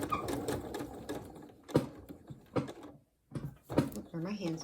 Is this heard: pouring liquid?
no